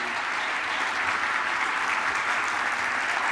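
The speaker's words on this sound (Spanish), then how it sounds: "arranquemos con un aplauso para dar la bienvenida al Marketing Day" An audience at Marketing Day 2018 claps in a dense, steady round of applause that stays even and loud throughout, with no voices above it.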